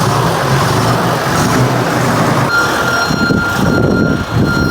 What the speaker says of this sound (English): They're going to reverse it into the shop now.